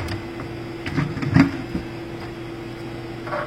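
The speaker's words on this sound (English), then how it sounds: "you'll hear the printer start to kind of try to take a filament in" A 3D printer feeds filament in during loading, giving a steady low mechanical hum with a few short whirring and clicking bursts near the middle, close by and with no talking.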